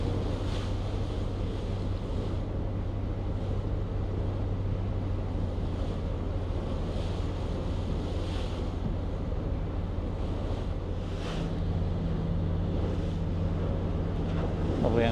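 Steady wind buffeting an open microphone over boat wake and choppy harbour swells in Sydney Harbour, a constant rushing wash with low rumbling water throughout and no voices.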